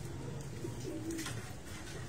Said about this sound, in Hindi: सातवां कबूतर बैठ चुका है